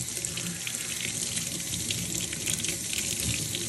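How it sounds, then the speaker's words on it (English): A faucet pours a strong, steady stream of water into a sandy drink holder, a loud continuous gushing splash up close with no pauses. "So what I'm going to do is turn this faucet on"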